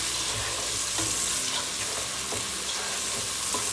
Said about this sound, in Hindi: और इसको अच्छी तरह भून लेंगे